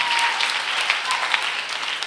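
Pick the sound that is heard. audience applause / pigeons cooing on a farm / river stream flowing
audience applause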